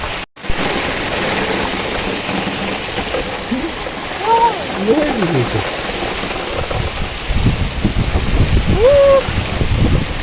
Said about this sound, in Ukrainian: Дві хвилини і л'є.